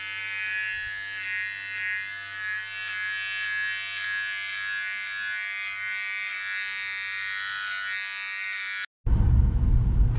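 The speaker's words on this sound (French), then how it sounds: "Ça fait déjà 2 jours que je voulais me raser un petit peu" An electric razor buzzes steadily and close for about nine seconds of shaving, then cuts off abruptly and a short burst of louder, rougher noise follows.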